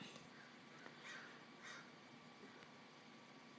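Two distant caws from a crow, faint and spaced about half a second apart, over a constant low background hiss.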